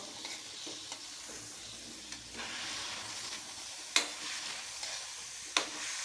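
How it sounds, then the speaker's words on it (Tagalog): Ingredients for a chicken dish sauté in a pan with a soft, steady sizzle, close and fairly quiet, punctuated by a few distinct scrapes and clinks of a spatula stirring against the metal. "pag naggigisa kayo ng ganito, lutuin nyo lang maigi"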